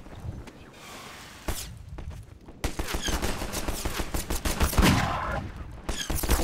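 Gunfire in the video game Half-Life 2: bursts of rapid shots crack out over a rumbling game background, with quieter gaps between volleys and a dense, loud stretch of repeated firing toward the end.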